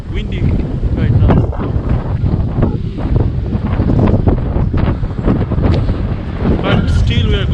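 Strong wind buffeting a microphone at a cold Finnish seaside, a loud, continuous roaring rumble with faint surf-like wash beneath it.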